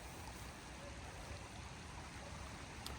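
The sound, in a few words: small river flowing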